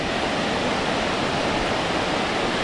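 Ocean waves wash continuously onto a beach, a steady broadband roar of surf without clear breaks, close and fairly loud with no voices.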